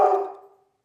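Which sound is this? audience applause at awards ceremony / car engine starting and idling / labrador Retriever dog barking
labrador Retriever dog barking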